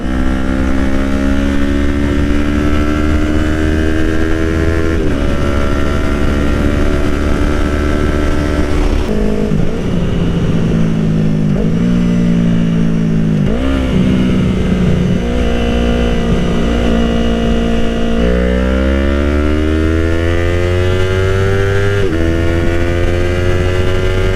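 Motorcycle accelerating hard from third gear, the engine note climbing steadily and then dropping with each upshift, several gear changes in a row, loud and close throughout with no talking.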